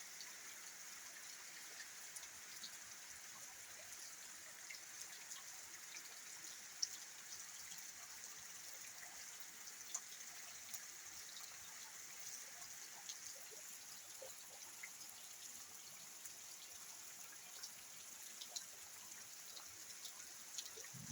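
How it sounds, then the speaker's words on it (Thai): Morning rain falls steadily and faintly in rural Thailand during a stormy spell, a soft, continuous hiss with scattered light drips and occasional small taps, no voices present. "ฝนก็ตกแต่เช้า"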